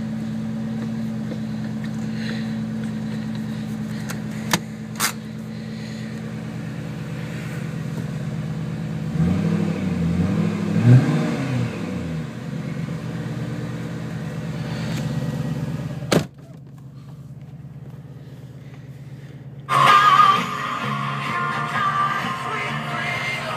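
A 2008 Shelby GT500 engine cold-starts at 9 degrees after sitting for three weeks. It drones loudly and steadily at idle, swells with a rev in the middle, then drops off after a sharp click before a brief hissing burst.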